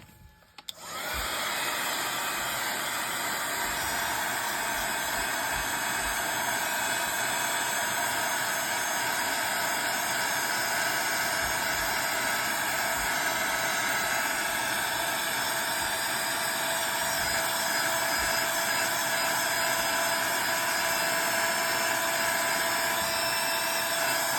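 A handheld dryer blows on freshly applied paint, starting up after a brief moment and then holding a loud, steady whirring rush without a break to the end.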